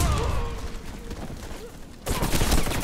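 Gunfire in the shooter game Warface, a dense burst of rapid shots that swells into a louder volley near the end, heavy and close.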